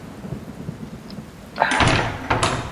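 Steady rain patters softly, then a loud, near crack of thunder bursts in and rolls on, followed by a second sharp rumble.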